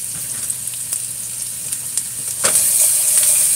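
Onions and thyme sautéing in a hot pan, giving a steady close sizzle and frying hiss with light stirring clicks that swell louder near the end.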